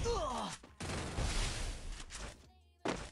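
Bursts of gunfire in the Free Fire mobile game, sharp loud volleys separated by brief gaps, with players talking over them.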